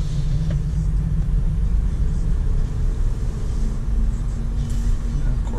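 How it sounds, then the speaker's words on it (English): A car engine rumbles steadily at low speed as a car pulls into a parking lot, a continuous vehicle drone heard from inside or close by. "he's pulling into a parking lot with vehicles on both sides"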